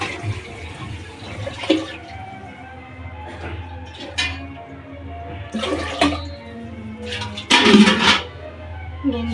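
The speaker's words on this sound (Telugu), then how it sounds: "వాటర్ వేయలేదు, ఇప్పుడు వాటర్ వేస్తుంది." Water is poured into a pot of rice on the stove in several separate splashing bursts, with clinks of the pot in between against a low background hum.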